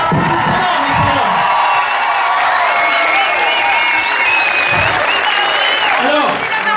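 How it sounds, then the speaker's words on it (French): Loud, sustained applause from an audience at a mock wedding ceremony, mixed with cheering and whoops, with voices shouting through the dense clapping throughout. "Sous les applaudissements"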